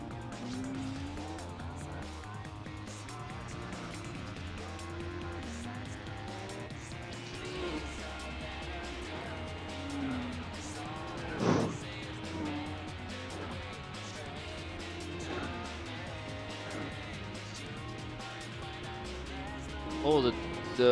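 Race cars in Gran Turismo 4, a Subaru Legacy trying to overtake an Evo 8, with steady engine drone and brief tire squeals under game music throughout.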